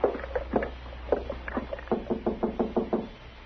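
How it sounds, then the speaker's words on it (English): A run of sharp knocks on a door, staged as a sound effect in a Gunsmoke radio drama, with a few taps and then a steady, evenly spaced series of about nine raps, close and fairly loud. "All right, go ahead and knock."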